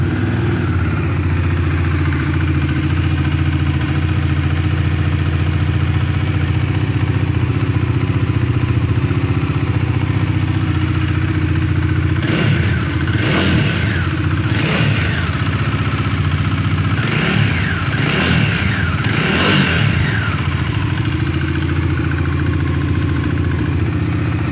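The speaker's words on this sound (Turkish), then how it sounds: "Hatta bir çalıştıralım motoru. Sesini duyun." A Bajaj Dominar 400 motorcycle engine runs at a deep, steady idle, then gets several sharp revs around the middle, each rising and falling in pitch, heard up close with no talk.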